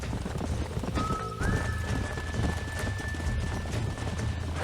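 Horses in the Red Dead Redemption video game, with steady hoof clip-clop and a neigh or whinny over a dense, continuous game soundscape, loud and close throughout.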